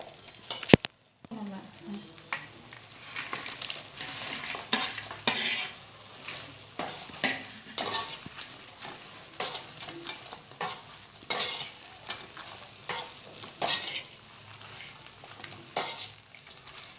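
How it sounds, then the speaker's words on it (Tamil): Fried egg cubes being stirred into Manchurian sauce in a pan, with a steady oily sizzle beneath repeated scraping and clinking strokes of a utensil, fairly close and with no talk. "இப்போ இதில் வந்து நம்ம பொரிச்சு வச்சுருக்கிற இந்த க்யூபெல்லாம் இதில் போட்டு மிக்ஸ் பண்ணிடலாம்."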